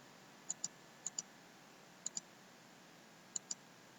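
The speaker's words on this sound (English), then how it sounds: "And then we'll just click out of all of these." Computer mouse clicking while working in Silhouette Studio and Cricut Design Space: four quick double clicks spaced a second or so apart, crisp and close against a quiet background.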